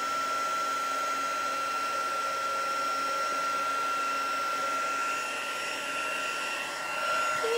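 A hair dryer drying a wet art journal page, blowing a continuous steady whooshing hum at close range that dips briefly near the end.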